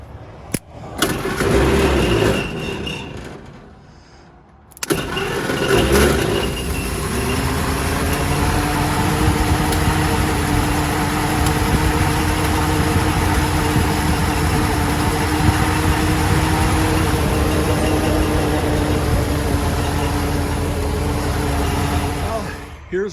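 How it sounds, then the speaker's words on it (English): A 1936 Ford crane truck cranks with a few stuttering attempts, catches after about five seconds, then settles into a loud, steady low idle that runs on alone. "Let's see if we can get it started one-handed while I hold the camera."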